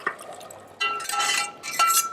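Raw chicken pieces and their juices are poured into a pan of sweated vegetables for an enchilada soup, giving a wet splashing and sliding pour in two bursts, close and moderately loud, after a quiet start.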